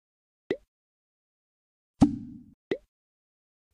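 Short cartoon plop effects from a children's cooking game sound as salmon strips drop onto a drying rack, four crisp isolated pops spaced over a few seconds, one trailing into a brief soft rumble, against silence.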